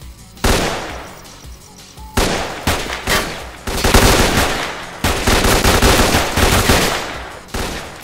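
Automatic machine gun fire in the S.T.A.L.K.E.R.: Clear Sky shooter game, loud sustained bursts of rapid shots with short pauses between volleys, no talking.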